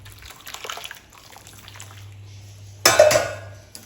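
Water is poured over a fish being cleaned, giving a short loud splash and trickle near the end after a quieter stretch of faint dribbling and low background hum.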